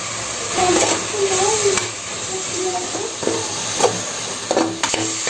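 Curry leaves, mint and coriander sautéing in hot oil in a pan for mushroom biryani, a steady close sizzle broken by a few scraping stirs and light clinks.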